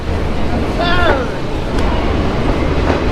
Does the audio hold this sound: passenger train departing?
yes